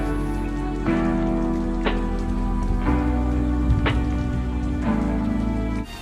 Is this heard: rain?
yes